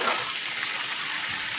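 Water poured into a pan of browning chicken curry, a steady close gushing hiss with no break through the moment.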